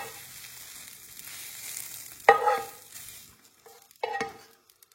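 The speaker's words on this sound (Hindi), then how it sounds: "हमारा प्याज कैरमलाइज हो गया है, अब हम इसको निकाल रहे हैं" Caramelized onions being scraped and dished out of a frying pan, with a steady low sizzle under two or three sharp, close scraping clatters of a utensil against the pan.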